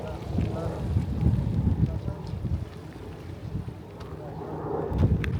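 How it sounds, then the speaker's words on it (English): Steady wind buffets the microphone with low rumbling gusts, rising and falling throughout, with no clear voices over it, while riding by bike along the coast at Mil Palmeras, Costa Blanca, Spain. "It's really windy."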